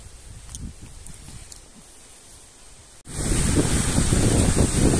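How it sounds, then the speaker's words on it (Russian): Strong, cold wind blowing beside a lake in the countryside. Steady rushing gusts hit the microphone hard, quieter at first and then a sudden loud, roaring buffeting that fills the rest of the clip, with no talking. "Ветер сильный, очень даже вот здесь прям ощущается, что холодно."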